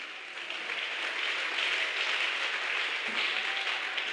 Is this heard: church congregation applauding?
yes